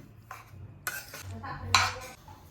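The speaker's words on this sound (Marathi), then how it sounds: "आता तूप सुटायला लागलं आहे. छानपैकी भाजत चाललं आहे पीठ." Besan gram flour roasting in ghee in a pan for besan laddoos, heard as a few scraping, clinking stirs of a spoon against the pan over a low background hum, with no talk.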